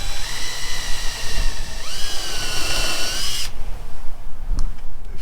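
A power drill whines loudly and steadily for about three and a half seconds with a rising pitch while driving a screw into a door frame, then cuts off, leaving faint clicks and handling noise.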